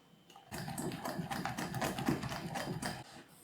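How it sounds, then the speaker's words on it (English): Corn flour is whisked into a pale egg mixture in a bowl, giving a rapid, steady run of close tapping and scraping strokes for about three seconds with no talking. "Now we'll whisk in the corn flour."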